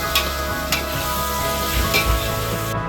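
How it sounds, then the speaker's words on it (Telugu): Tomatoes and salt go into a hot pan for macaroni pasta and are stirred, a steady close sizzle with a few soft scraping and clinking stir sounds, no voices. "నెక్స్ట్ టమాటాలు అయితే వేస్తున్నాము అలాగే సరిపడే ఉప్పు అయితే వేసుకొని కలుపుకోవాలి"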